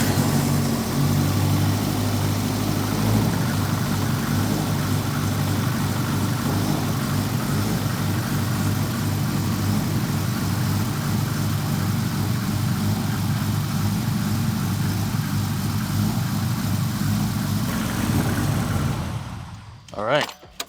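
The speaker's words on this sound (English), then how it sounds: "So we're gonna go ahead and fire it up," A Subaru Impreza 22B engine starts and settles into a steady, lumpy idle with rotational idle engaged, running loud and continuous close by for most of the stretch before cutting off near the end.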